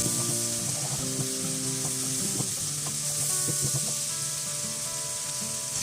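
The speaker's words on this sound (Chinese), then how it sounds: "然后在锅中直接倒入洋葱、大蒜丁还有生姜丁，翻炒出香味。" Diced onion, garlic and ginger stir-fry in a pan before curry is added, a close, continuous sizzle with scattered light scrapes and clinks of stirring, fairly quiet and steady, with no voices.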